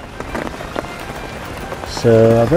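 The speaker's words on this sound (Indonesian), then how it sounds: "Neduh. Kita neduh. Hujan kabut." Rain falls steadily in a misty mountain forest on Mount Salak, a dense, even hiss with scattered drops, and a brief voice rises over it at the end.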